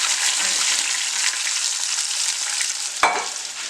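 Ground spice paste sizzles and fries steadily with curry leaves in a pan, a continuous close hiss with light stirring and a brief scrape near the end, no talk.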